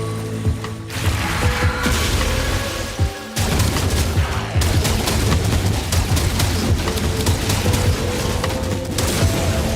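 The Bubonic cannon blasts repeatedly in Warframe, a loud mechanical churning barrage of clanking, ratcheting shots over a droning hum, running almost continuously with a brief gap early on.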